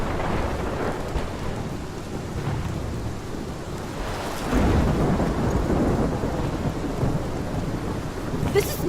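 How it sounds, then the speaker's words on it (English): A heavy thunderstorm in the video game Life is Strange: dense rain pours steadily while rolling thunder rumbles and swells midway, loud and continuous with no voices. "This is my storm."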